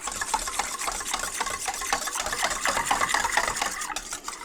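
Probiotic starter being stirred into milk for homemade yogurt, breaking up clumps: fast, rhythmic scraping and light clinking strokes, close and continuous, with no voices.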